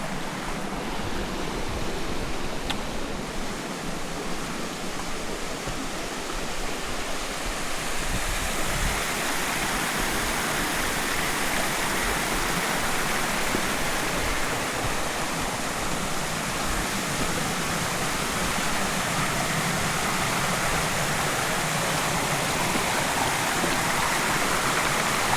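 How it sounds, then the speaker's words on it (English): Julia Lynn Falls, a waterfall on a Kentucky trail, roars as a steady broadband rush of falling water, loud and continuous throughout with no voices. "but first, the Julia Lynn Falls."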